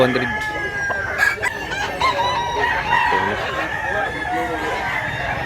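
Many roosters crow over one another at a busy weekly chicken market in Mantalungon, Cebu, with clucking and a steady crowd murmur underneath and voices talking nearby.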